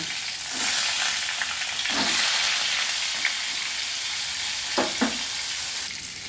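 Pointed gourd pieces sizzle steadily in hot oil, with occasional light clinks of a spatula stirring the pan.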